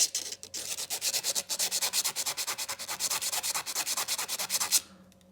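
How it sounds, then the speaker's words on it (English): Outboard motor piston ring pressed against folded wet and dry sandpaper, a steady rapid series of short scratchy rubbing strokes, close and clear, stopping just before the end. "I've got a little bit of wet and dry sandpaper folded over, and I will just gently press that ring on each side of it"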